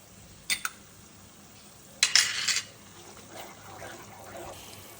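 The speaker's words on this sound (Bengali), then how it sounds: "এই সময় আমি টক দইটা দিয়ে দেবো দিয়ে এবার একটু ভালো করে কষাবো" Spice paste with sour yogurt fries for egg korma, a faint low sizzle broken by two sharp utensil clatters against the pot and a softer stirring scrape afterward.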